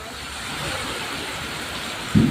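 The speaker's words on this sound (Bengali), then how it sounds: "অনেক বৃষ্টি হচ্ছে এখানে, অনেক বৃষ্টি।" A constant broad roar of heavy rainfall at a banana wholesale market on the bypass road in Gazipur, Bangladesh, with a low thud or rumble breaking in just at the end.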